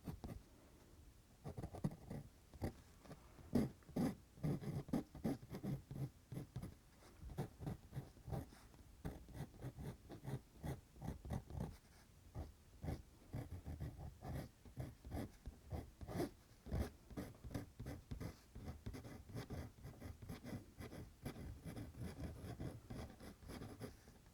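A pencil sketches hair on paper in quick, irregular scratchy strokes, soft and close, with short pauses between bursts of rapid scribbling over about twenty-four seconds.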